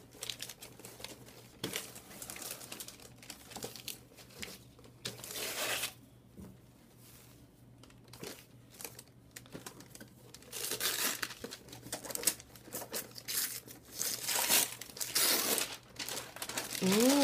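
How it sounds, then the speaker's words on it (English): Crinkly crumpling of a sparkly gold bow being pulled off a gift box holding a Disney Cinderella 2015 Fairy Godmother doll, close and irregular in bursts with pauses between. "Let's unwrap the bow."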